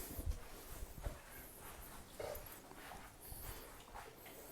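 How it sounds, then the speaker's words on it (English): Two dogs gnaw on bones at home, giving faint, close crunching, scraping and soft mouthing sounds in an irregular rhythm over a quiet room. "Two happy dogs chewing bones."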